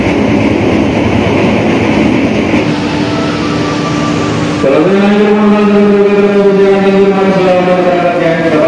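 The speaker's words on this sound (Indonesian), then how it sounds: "KA Jaka Tingkir kembali diberangkatkan dari stasiun Haur Gelis" KA Jaka Tingkir passenger train pulling away from Haur Gelis station in Indramayu at night, its engine drone rising in pitch with a steady rumble, loud and close throughout.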